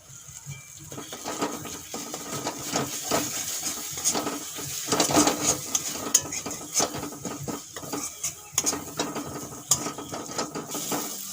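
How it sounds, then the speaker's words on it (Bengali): A spatula scrapes and clatters repeatedly against a pan as thick ginger-garlic paste fries with fried onions in a steady, crackling hiss. "আদা রসুন দেওয়ার পরে তিন চার মিনিটের মতো ভেজে নিয়েছি"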